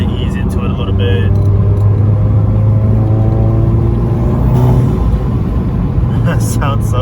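Intake of a VW GTI with an IS38 turbo and MST intake revving, loud steady engine drone with rising and falling harmonic whine and whoosh, a voice talking over it.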